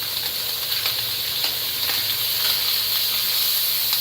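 Bacon and sausage fry together in a pan, giving a soft, even sizzle that hisses steadily at moderate loudness throughout, with faint pops and no voices.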